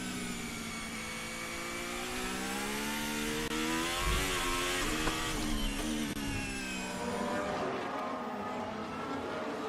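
A Formula 1 car driven by Charles Leclerc at the 2022 Spanish Grand Prix practice on the hardest Pirelli tyres, its engine whining and rising and falling in pitch through gear changes and a slower corner, loud and close, with no talking.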